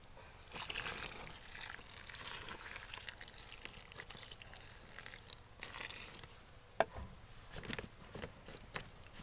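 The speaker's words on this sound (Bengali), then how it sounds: "আর এবারে কিন্তু এর মধ্যে জল দিয়ে দেবো।" Water poured into a newly planted vegetable grow bag of cardboard and a little soil, a soft steady trickle and patter running for several seconds with a few brief drips near the end.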